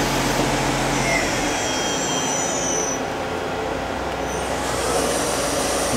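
A Daewoo Puma 200LMSC CNC turning center's sub spindle spins at about 2500 RPM, giving a smooth, continuous whirring hiss that stays even and moderately loud throughout, with no voices.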